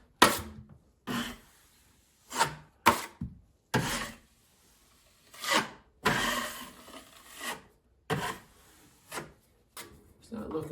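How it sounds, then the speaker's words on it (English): A drywall knife scrapes freshly applied joint compound off a wall repair in repeated rasping strokes, about nine short, close, fairly loud passes separated by brief pauses. "I'm going to actually be removing most of the compound I just put in there"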